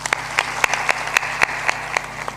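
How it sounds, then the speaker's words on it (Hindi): Audience applause at a spiritual discourse gathering, a steady run of sharp claps with rhythmic accents heard fairly close, continuing evenly without any voices over it. "ताली बजा दो।"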